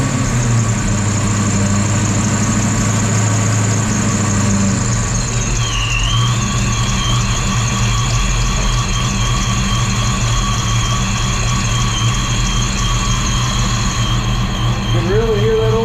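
A Fox Body Mustang running a Holley Terminator X and a Vortech-style supercharger idles up close, a loud steady rumble with a faint rising whine.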